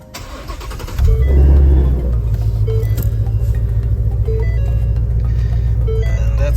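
A Ford Shelby GT350 V8 cranks and fires with a loud burst, then settles into a close, steady idle rumble with faint intermittent tones over it.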